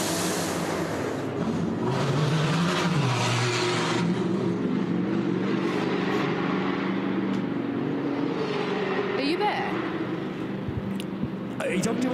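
A race car engine drones and revs over steady crowd noise and a commentator's voice at the Mugello 12-hour race, the pitch rising and falling as the car is released and pulls away.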